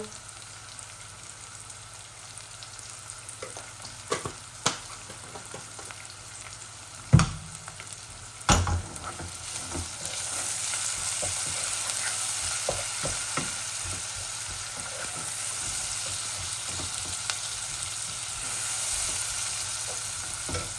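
Onions and dried shutki fish fry in a pan, a steady sizzle that swells louder and denser partway through, broken by a few sharp clatters of stirring, with no voices.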